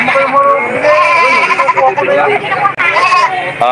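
Anglo-Nubian goats bleat loudly and nearly continuously, several overlapping wavering cries close by, with some voices in the background.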